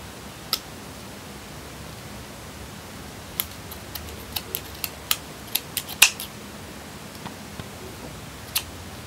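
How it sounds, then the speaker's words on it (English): Scissors snipping away excess fabric on a handmade Monster High skullette pillow, a handful of quiet, sharp clicks spaced irregularly over faint room hiss, with no talking. "So if I could just trim off the excess."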